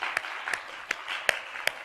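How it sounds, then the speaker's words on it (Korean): A church congregation claps in welcome during a Friday evening worship service, sparse, scattered hand claps spread across the room rather than a full, dense burst of applause. "강현이 한번 일어나면 박수 한번 해줍시다"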